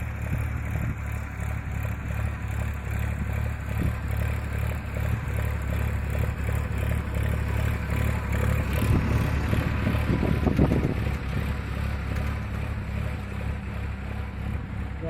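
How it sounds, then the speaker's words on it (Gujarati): A tractor pulling a sowing rig through a farm field gives a steady, fairly close engine drone with mechanical clatter. The sound swells briefly near the end and carries on without voices. "ટ્રેક્ટર વાવતું હોતું જાય છે"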